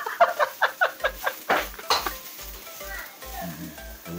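Beef stir-fried in a pan, with a quick series of rhythmic scraping and clanking strokes of a utensil against the pan over a soft sizzle, followed by scattered stirring clatter and brief low voices.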